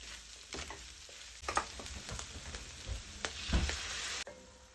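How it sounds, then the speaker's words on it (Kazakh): Flour and milk sauce stirred in a pan with a spoon, with a steady low sizzle and soft scraping strokes, close and moderately quiet, no voices. "1 ас қасық ұн, тағы да жақсылап араластырамыз да 300 г сүт құямыз"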